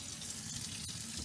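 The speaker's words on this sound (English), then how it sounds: "got the water running there" Water runs steadily from the tap of a newly installed big sink in a farmhouse under renovation, a soft, even hiss with no talk.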